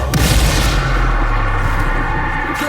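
Bombarda and Confringo spell blasts in the Hogwarts Legacy video game, a dense, continuous barrage of loud booming explosions and crackling impacts with no break across the whole stretch.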